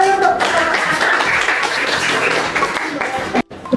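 A class applauds a presenting group during a micro-teaching session, a close burst of hands clapping mixed with voices that carries on for about three seconds before breaking off sharply.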